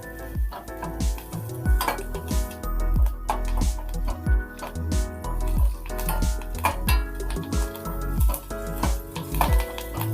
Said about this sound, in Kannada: ಜೀರಿಗೆ ಮತ್ತು ಪೆಪ್ಪರ್ ಎರಡು ಚಟ್ಪಟ್ ಅಂತ ಸೌಂಡ್ ಬರುತ್ತಲ್ಲ